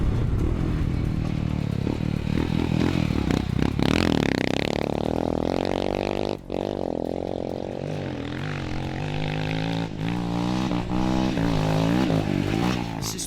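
A Royal Enfield motocross bike rides through turns, its engine droning loudly and steadily with rising and falling pitch as it is worked through the corners, heard alone.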